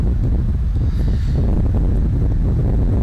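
Lava from a sound puzzle in the Myst video game, heard as a continuous deep, rushing rumble with a windy roar that stays steady and loud throughout, with no voices.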